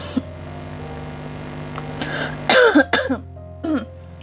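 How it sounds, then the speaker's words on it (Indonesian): A person coughs several times in quick, harsh bursts close up, over a faint steady electrical hum. "aku batuk"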